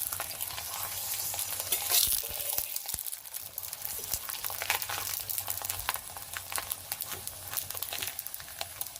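Soft yogurt paratha frying in a pan, a steady faint sizzle with light crackling throughout, alone without voices.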